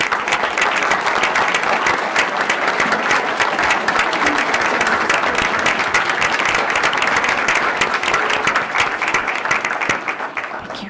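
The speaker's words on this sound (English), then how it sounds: "please give this group a very, very big round of applause" Sustained audience applause for a group of students and their standing parents at a school board meeting, steady dense clapping filling the room for the whole stretch before tapering slightly at the end.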